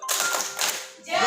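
Kindergarten children at TK Cut Meutia perform the tepuk salut, a rhythmic salute clap, on a TVRI Aceh broadcast. Bursts of group clapping come in quick patterned groups, fairly close and lively, with a brief lull before a final flurry.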